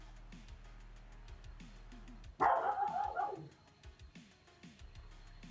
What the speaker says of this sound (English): Are they taking turns barking?